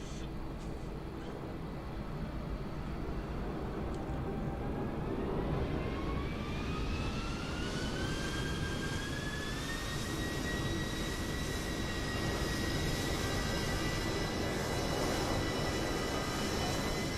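Jet airliner engines in Microsoft Flight Simulator 2020, heard at an airport while plane spotting: a steady distant roar with a whine that rises in pitch as the engines spool up, fairly faint and alone without talk.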